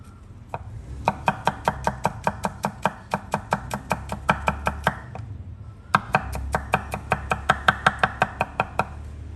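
Steady, rhythmic knife chopping of garlic into small pieces on a cutting board, quick repeated taps close up, with a brief pause midway before the chopping resumes.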